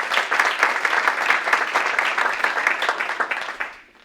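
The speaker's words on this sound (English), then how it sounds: "So let's give Chris and his committee a round of applause." Audience applause after a committee is recognized at a public gathering, steady dense clapping from a crowd that holds for several seconds before tapering off at the end.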